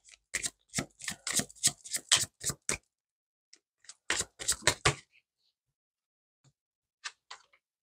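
Stuck-together playing cards are handled and shuffled in quick bursts of crisp flicking and riffling taps, then a pause, another short run, and a few scattered soft clicks near the mic.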